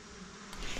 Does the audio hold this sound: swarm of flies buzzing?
yes